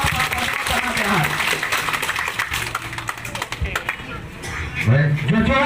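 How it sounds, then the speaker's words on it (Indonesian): Audience applause for a guest introduced at a Batak community gathering, steady clapping running under ongoing talk and background voices, swelling louder near the end. "Kami persilahkan tepuk tangan untuk Bapak Pardingotan Habiahan"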